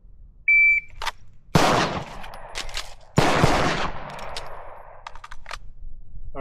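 Handgun shooting practice with a magazine change at a range: a shot-timer beep, then two sharp loud gunshots about a second and a half apart with the reload between, followed by fainter clicks.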